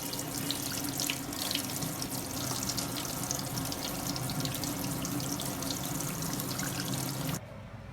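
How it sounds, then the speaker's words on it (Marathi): Fresh fenugreek (methi) leaves rinsed by hand under a running kitchen tap, a steady close rush of water splashing into a sink, continuous and fairly loud until it cuts off near the end. "अशी खळा मेथी धुवून घ्यायची पाण्याखाली."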